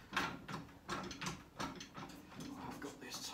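A ratchet clicks in quick repeated bursts while bolts are tightened during assembly of a 220-litre sandblasting cabinet, fairly quiet and close, with brief pauses between strokes.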